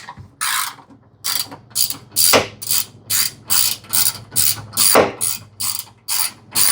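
A hand ratchet loosens bolts on tie-down rails of a 2024-or-later Toyota Tacoma pickup, giving about a dozen sharp, evenly spaced clicking strokes, close and loud with no other sound.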